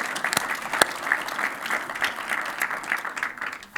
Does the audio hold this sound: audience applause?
yes